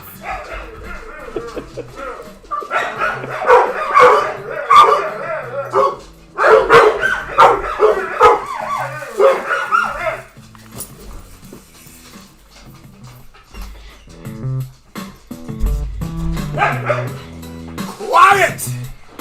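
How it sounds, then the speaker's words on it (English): Dogs bark in short yapping bursts, loud and close, mixed with a crowd chanting and someone talking over them. "If you hear the dogs barking,"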